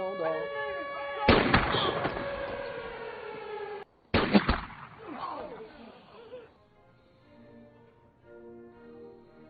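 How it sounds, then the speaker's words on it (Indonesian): Guards firing rubber bullets at a prison inmate in the 2001 film The Last Castle, heard as loud sharp blasts with a ringing tail, a short gap, then another burst that fades beneath a sustained tonal film score. "Winter menyuruh penjaga atas untuk menembak Tamper menggunakan peluru karet"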